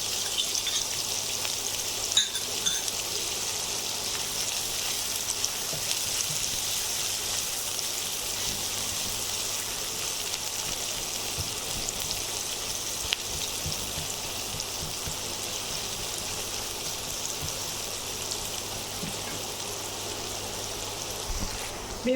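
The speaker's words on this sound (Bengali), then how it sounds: "এখন আমি দিয়ে দিচ্ছি পেঁয়াজগুলো। আমি প্রথমে একটু ব্রাউন করে ভেজে নেব" Medium onions sizzle and fry in a pan while browning for an egg and hog plum korma, a steady, even crackling hiss that runs unbroken throughout with a few faint clicks and no talk.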